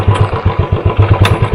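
Royal Enfield Bullet motorcycle engine firing up and settling into its thumping single-cylinder beat, loud and close, with rapid regular pulses and no speech.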